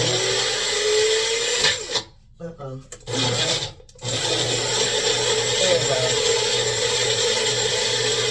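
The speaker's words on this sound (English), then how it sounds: "So, I got my little blender here." A small blender processing aloe vera whirs loudly, cuts out briefly twice with a short spoken remark in the gap, then runs steadily again.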